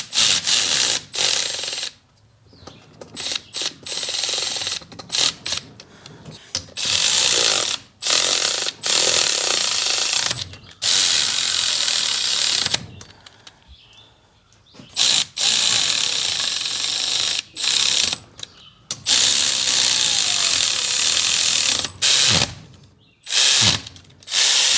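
Milwaukee power ratchet running down the head bolts on a 1966 John Deere 110 garden tractor, loud close whirring bursts of a few seconds each, repeated many times with short pauses between.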